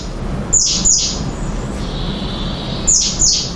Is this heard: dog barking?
no